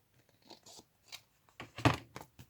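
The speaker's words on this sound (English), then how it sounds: "And I'm also going to cut off just a little bit from this side." Scissors snipping through paper while trimming travel ephemera for a craft project: a few close, crisp cuts in quick succession, the loudest near the end, with quiet pauses between.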